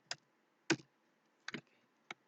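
A computer keyboard gives four separate, crisp key presses, spaced roughly half a second apart, in an otherwise quiet room.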